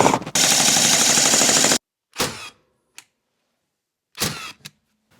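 A power tool drives GRK structural screws during a basement doghouse build, giving a loud, dense, rapid chattering burst of about a second and a half, followed by a few short, fainter clicks and whirs in otherwise quiet surroundings.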